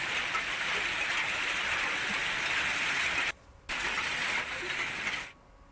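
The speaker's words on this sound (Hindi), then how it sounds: "चने के आकार के ओले यहां पर गिरे हैं।" Chickpea-sized hailstones fall in Rajasthan, a dense, steady hiss-and-patter of ice hitting surfaces, continuous and fairly loud, briefly cutting out twice.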